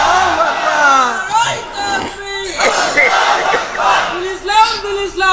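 A large crowd at an outdoor Islamic sermon roars the takbir slogan in loud, drawn-out collective shouts, swelling in repeated waves with a lead voice calling between them.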